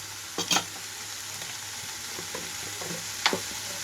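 Cluster beans frying over a medium flame in a pan of tempering with onions: a steady crackling sizzle, with two sharp louder bursts early on and another near the end.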